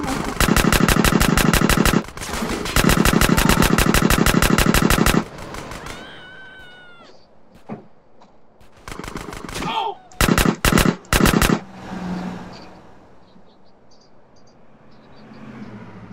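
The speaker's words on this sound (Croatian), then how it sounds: "ja čujem neko me puca" Bursts of automatic gunfire in the video game GTA, two long loud rattling volleys, then scattered shorter bursts and single shots with quieter gaps between.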